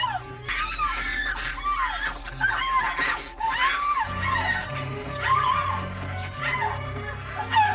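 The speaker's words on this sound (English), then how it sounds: "She's always screaming and hysterical in this movie." A woman in the 1980s horror film Critters shrieks and screams in repeated frantic bursts over a low rumbling backdrop, loud and close.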